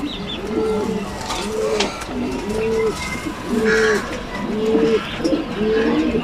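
A pair of racing pigeons, a Cavendish male and a willie red chequer female, coo close by in a steady series of rolling, regularly spaced calls, with someone talking quietly in the background.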